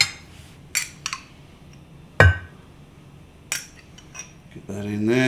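Spoon scooping salsa from a jar for nachos: a few sharp metallic clinks and taps against glass spaced apart, close and crisp, with a louder clatter midway and a brief voice at the end.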